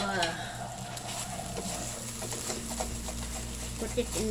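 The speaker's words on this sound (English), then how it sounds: "I only stir fry it for at least 7 to 10 minutes" Beef and rice noodles stir-fried in a pan for a diabetic and cardiac-friendly meal, giving a steady sizzle with scraping stir clicks throughout, close and moderately loud, while a low background hum runs underneath.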